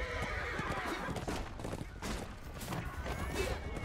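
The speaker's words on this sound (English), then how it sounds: "Someone's on the horse." A horse neighs while hooves clip-clop amid a chaotic Chivalry 2 medieval battle, with clashes and crashes around it and faint voices in the mix.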